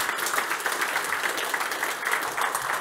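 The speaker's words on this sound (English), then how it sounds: "A round of applause to our speaker." Conference audience applause for a cybersecurity speaker, dense steady clapping from a crowd in a hall, sustained and fairly loud for the whole stretch.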